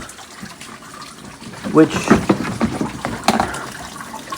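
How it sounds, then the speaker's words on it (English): Water rushes and splashes through a garden pond system run by two pumps, a steady moderate gush with someone talking over it nearby. "So why is the water coming this way? Because at the moment he's got two pumps running."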